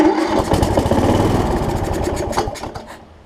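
A Kohler Courage engine on a Troy-Bilt Horse rider mower cranks with a rapid, throbbing mechanical chug, loud and close, slowly easing off toward the end without settling into a steady run.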